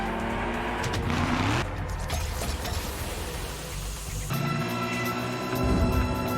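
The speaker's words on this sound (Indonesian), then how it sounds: "Kembali ke Dongwook yang membalap mobilnya." Racing car engines roar through a movie chase scene, a sustained loud engine drone with abrupt cuts between shots and brief tire noise, no talking.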